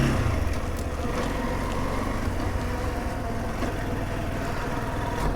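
A SYM NH-T 200 motorcycle pulls away in first gear, its engine a steady, close mid-pitched drone beneath a constant rush of wind noise.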